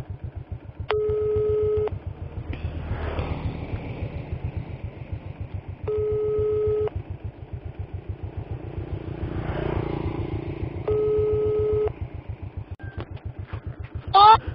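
Three repeated bursts of a telephone ringback tone, each about a second long, spaced evenly over the steady low rumble of a motorcycle engine in South Aceh, Indonesia.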